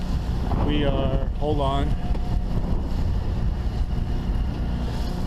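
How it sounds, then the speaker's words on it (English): Strong wind roars continuously against the microphone on a boat on Lake Erie, loud and steady, while someone speaks briefly near the start. "The wind really picked up here."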